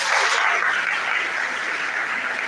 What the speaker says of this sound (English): Distinguished audience, let us put our hands together for the host of this wonderful event